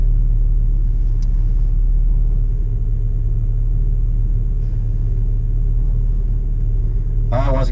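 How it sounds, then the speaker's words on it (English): A Chevrolet Camaro at Gainesville Raceway drag strip gives off a steady, deep engine rumble that stays constant and close, with voices heard over it. "Looks like a little Camaro."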